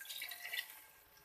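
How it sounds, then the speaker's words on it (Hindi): Half a cup of water poured into chicken korma after its masala has been fried until the oil rises, a soft, faint splashing trickle lasting about a second, with no talking. "अब इसके अंदर मैं डालूंगी 1/2 कप पानी"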